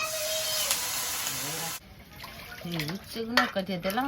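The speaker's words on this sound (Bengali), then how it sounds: "এবার জল দিয়ে দেবো" Water is poured into a pan of fried vegetables, a steady rushing hiss for a couple of seconds that then stops, followed by kitchen clatter and talk.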